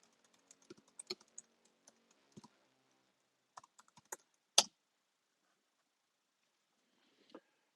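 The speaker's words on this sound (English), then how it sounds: "Oh, it wants me to type my password." A password being typed on a computer keyboard: sparse, quiet, close keystrokes in an irregular pattern, with a few louder taps and a final pair of clicks after a pause.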